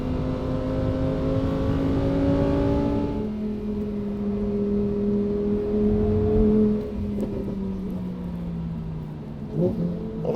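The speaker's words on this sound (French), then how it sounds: "je vous laisse profiter du son du V10" A Lamborghini Huracan EVO V10 runs on the Nordschleife, filling the interior with loud, harmonic engine drone. It revs high, then drops in pitch as it lifts off and settles, with a few clunks near the end.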